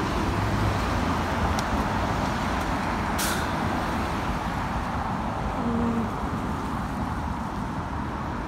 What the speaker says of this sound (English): So here's the 42 just turning. That's the bus that I have to take back to my next location.